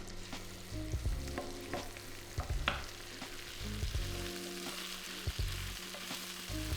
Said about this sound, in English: Add the chicken and cook for 7 to 8 minutes, turning a couple of times until nice and golden brown all over.